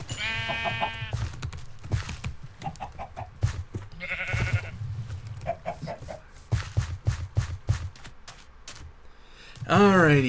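Sheep in the Minecraft video game bleat several times in a snowy winter biome, with short wavering calls spaced across the stretch over a busy, steady game soundscape of other noises.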